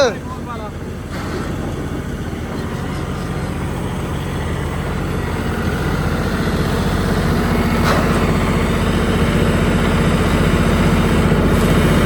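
A John Deere tractor engine runs steadily at a low rumble while driving, with wind noise buffeting the microphone and someone speaking over it.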